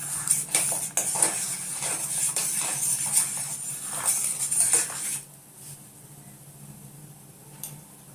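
A spoon stirs ginger and turmeric in a pot for golden turmeric milk, making clinking scrapes against the metal that run for about five seconds, then quieter clinks follow with a faint ringing tone beneath.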